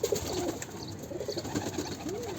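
A pigeon coos softly and repeatedly over a noisy background in a loft of red-throated birds, with low rolling calls spread across a short stretch.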